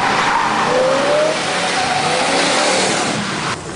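The General Lee car's engine revs loudly and continuously in a video game car-duel arena, a sustained close roar with rising tonal whine, dropping off slightly at the end.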